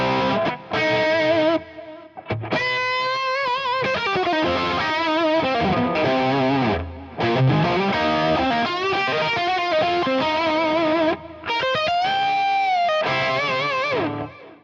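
Electric guitar played through a Fractal AX8 on the USA 2C+ preset with delay, a loud, driven, distorted tone carrying sustained melodic lines and chords with short gaps between phrases.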